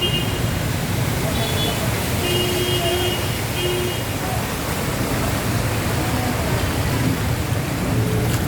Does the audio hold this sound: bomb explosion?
no